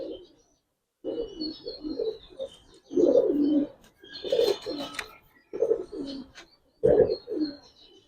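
Pigeons coo repeatedly at a farm keeping Giribaz and coloring pigeons, the soft low calls coming in bursts with brief pauses and a few higher chirps mixed in, fairly close and without talk.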